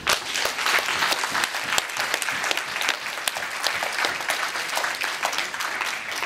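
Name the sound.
audience applause for stage presenters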